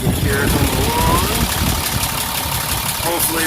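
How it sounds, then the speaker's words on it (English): Cummins diesel in a 2011 RAM 2500 Laramie idles with a steady, close rumble and light knocking clatter, loud and even, while someone talks over it. "let's go back to the engine so you can hear it come along"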